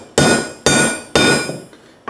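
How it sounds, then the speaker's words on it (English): Three hard hammer blows strike powder-coated bullets laid on a steel track, each a sharp, loud metallic crack with a short ringing decay, evenly spaced about half a second apart. "we're gonna slam it with a hammer and see what happens"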